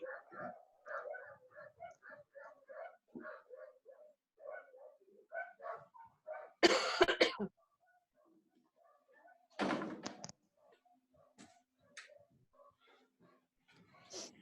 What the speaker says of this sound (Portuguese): Os cachorros do vizinho começaram uma latição aqui que não dá.